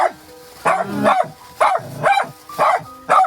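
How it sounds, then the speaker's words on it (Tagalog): A dog barks repeatedly nearby, loud rhythmic barks spaced about a second apart, with no talking. "Ang ingay ng aso mo, si Jinky."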